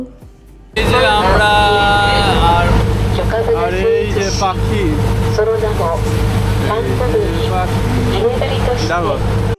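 A sightseeing boat's engine hums loud and steady as it cruises on the sea near Ine fishing village in Japan, with voices talking and calling over the motor throughout.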